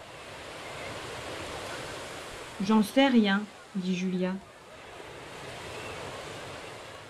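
Ocean waves at a beach make a steady, soft wash of surf throughout, while a voice briefly reads aloud over it in the middle.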